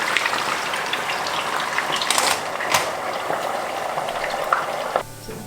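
Falafel crackles and sizzles in hot oil, a dense continuous frying sound with occasional sharper pops, cutting off abruptly near the end.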